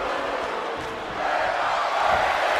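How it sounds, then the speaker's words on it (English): A wrestling crowd roars steadily at an ESW fight night, a dense sustained wall of cheering and shouts that swells slightly louder partway through, with no clear talk over it. "The crowd firmly behind Rikki Riot here."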